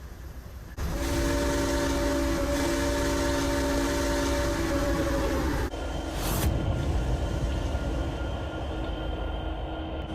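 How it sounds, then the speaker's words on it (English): A long, loud steam whistle sounds for several seconds with a steady tone, then cuts off, leaving rumbling train noise. "That sounded like a steam engine whistle"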